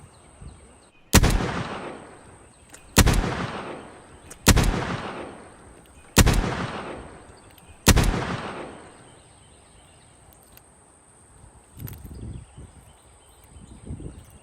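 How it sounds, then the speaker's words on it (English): Test firing of a LEGO Colt Python revolver model: five loud, sharp shots spaced about a second and a half apart, each ringing out with a decaying tail, followed by quieter handling rustles. "gonna go ahead and give you guys the test fire for this weapon"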